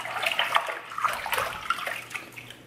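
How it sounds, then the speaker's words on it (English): Water with half a capful of conditioner swished by hand in a basin for restoring a wavy synthetic wig; close, uneven sloshing and splashing in repeated strokes, moderately loud. "We're gonna give that a good swish swish."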